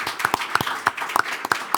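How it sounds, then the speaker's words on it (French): A small audience at a civic talk event in Orléans claps for a guest, heard as sparse, irregular, close hand claps with distinct individual slaps rather than a full ovation. "Applaudissements pour Tanguy Dupont."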